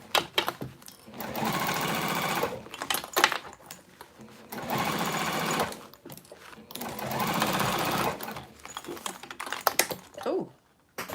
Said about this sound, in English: So I'm just sewing 1/8 seam, basting it.